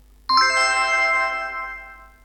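A table-reservation app gives a single notification chime: one bright ringing tone that starts sharply and fades slowly over about two seconds, heard alone.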